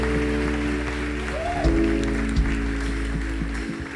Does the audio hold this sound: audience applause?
yes